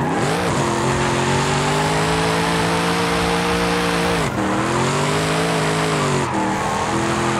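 A car in Forza Horizon 5 drives through a city with its engine revving loud and steady, pitch sliding down at two gear shifts, and faint tire squeal throughout.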